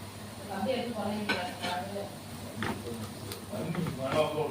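Onion and spice masala of turmeric, chilli powder, garam masala, coriander powder and salt stirred in a pan for Burma-style egg fry, with utensil scrapes and clinks against the pan over a faint sizzle, continuing steadily throughout.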